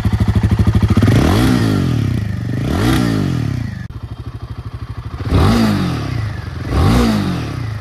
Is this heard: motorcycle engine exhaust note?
yes